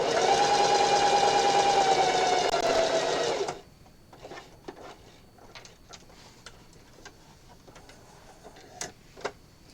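A sewing machine stitching a hair scrunchie, running loud and steady for about three and a half seconds, then stopping, leaving faint ticks and small handling clicks.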